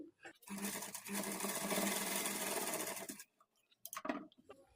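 An electric sewing machine runs in one continuous burst of about three seconds while a blouse sleeve is stitched on with a rough finishing stitch, a close, fast mechanical whirr that stops abruptly, followed by a few light handling knocks.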